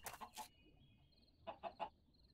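Chickens in the Minecraft video game give two quick bursts of three clucks each, soft and a little distant, with a faint high tone between them and no talking.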